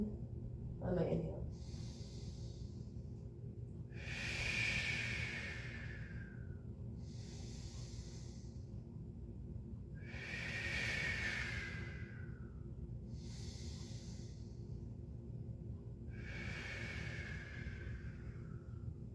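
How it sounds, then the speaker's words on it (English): Slow, deep breaths during a beginner yoga sun salutation, with the belly pulled in on each inhale. Four long airy breaths rise and fall at even intervals, close and clear over a faint background hum. "Now I reverse breathe there. I pulled my belly in on my inhale."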